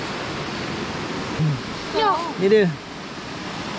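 A river flowing beside a riverbank campsite at Lubuk Petai, Kampung Sahom, Kampar, a constant broad rushing wash of water throughout, with a few brief voices and chirps over it.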